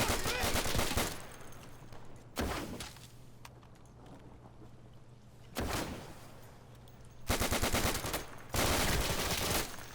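A heavy gun in the World War II shooter Day of Infamy fires several loud, sharp shots at irregular intervals, each cracking out and echoing away, with quieter battlefield noise between shots.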